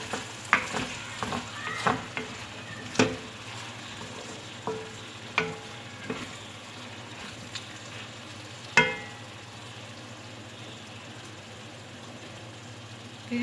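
Potato dish frying in a pan, stirred with a series of scraping clicks and clatters over a steady low sizzle, busy for the first half and then quieter, with no talking.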